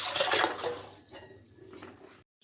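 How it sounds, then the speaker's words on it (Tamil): Soaked white sorghum grains are washed in water in a home kitchen, giving loud splashing and swishing that settles into quieter trickling before stopping abruptly. "இப்போ நல்லா ஒரு 4 தடவை கழுவிட்டு நல்ல தண்ணி ஊற்றி ஊற வச்சுக்கிறேன்."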